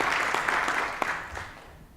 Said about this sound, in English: I'll clap for that one